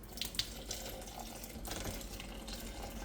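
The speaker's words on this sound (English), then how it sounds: "I'm gonna add 2 cups of water." Water pours steadily from a tap into a blender jug in a home kitchen, giving a soft continuous hiss and splash with a couple of faint clinks near the start.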